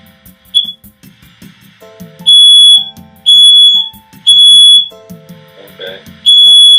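A First Alert SCO5CN combination smoke and carbon monoxide detector in test mode blares four loud, piercing beeps in a regular rhythm, with a person talking quietly in the gaps.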